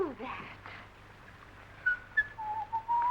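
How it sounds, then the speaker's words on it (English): A person whistles a few short, wavering notes after a brief moment of faint voice and quiet, fairly close and moderately loud. "Oh, do stop whistling."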